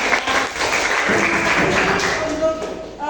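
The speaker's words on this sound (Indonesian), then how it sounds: "Tepuk tangan buat kita semuanya" Dense, steady hand clapping from a group, loud and close, fading slightly at the end.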